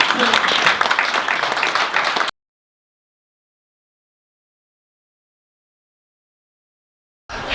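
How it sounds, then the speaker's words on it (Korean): Audience at a Korean-American business friendship forum claps to welcome a speaker, a dense burst of applause that cuts off abruptly into silence before sound returns at the very end. "이범 장관님을 큰 박수로 맞아주시기 바랍니다"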